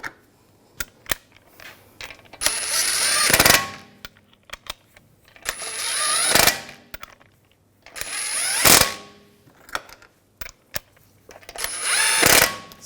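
A power tool runs down the wheel lug bolts on a BMW 328i during a front brake job, four loud whirring bursts of about a second each, separated by clanks and clicks of handling, close by with no talking.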